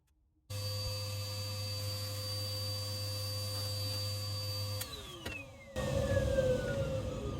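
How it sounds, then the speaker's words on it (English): A vacuum cleaner motor drones steadily after switching on abruptly, sucking up spent lead-free air rifle pellets and lead debris from a pellet trap, its pitch dropping and changing partway through before surging again. "So quickly vacuum this lot up and then we'll have a better look at this."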